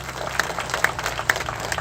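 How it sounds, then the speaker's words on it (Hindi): Crowd at an election rally clapping in scattered, uneven bursts, a loud nearby clatter of hands with a few sharper claps standing out over a murmuring crowd. "एक बार अपने लिए ताली बजाइए"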